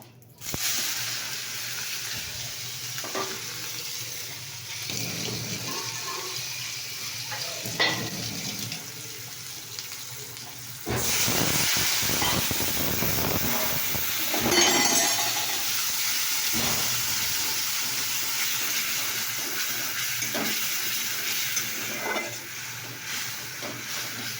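Spice paste of onion, ginger and garlic with turmeric, chili powder and salt frying in oil, a steady close sizzle and hiss running continuously, growing louder and busier partway through, with occasional clinks and stirring scrapes.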